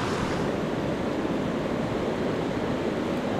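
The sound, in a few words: flowing creek water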